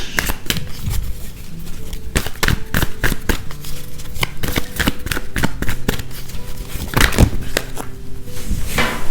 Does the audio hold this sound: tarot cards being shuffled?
yes